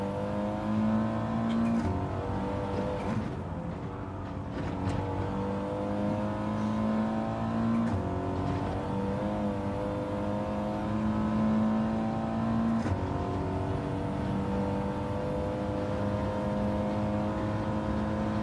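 A race car engine in Gran Turismo 7 drones and revs continuously, pitch climbing and dropping through gear changes, loud and steady throughout with no talking.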